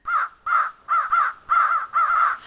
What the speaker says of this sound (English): The wild crows flew in one great flock towards Dorothy and her companions.